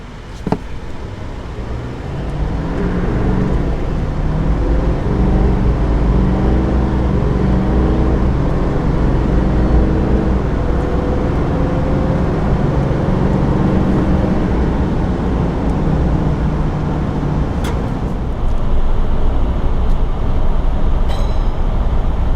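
A 2022 heavy-duty diesel pickup, Chevy Silverado 2500 Duramax or RAM 2500 Cummins with a 10-speed transmission, accelerating hard: a loud, steady interior engine drone rising in pitch through several gear changes, with no talking.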